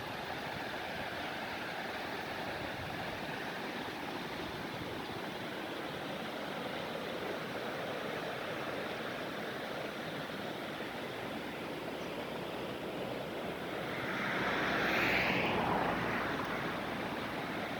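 Steady rushing water of a river in Zakarpattia, Ukraine, flows continuously, a broad even wash like a fast river, with a brief louder surge near the end; no voices.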